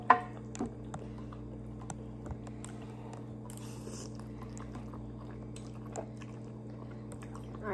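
Crunchy Thai rice noodles with leeks being chewed, soft repeated crunching and mouth sounds close up over a steady low hum, one sharper bite at the start.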